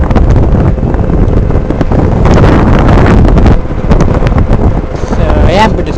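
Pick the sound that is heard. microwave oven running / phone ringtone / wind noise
wind noise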